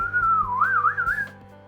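A person whistles one loud, close, wavering note that slides down and then warbles up for about a second and a half, with a low hum underneath.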